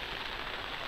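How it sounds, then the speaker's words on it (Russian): Light rain falling as a soft, steady hiss, faint and brief, with no other sounds. "Дождик."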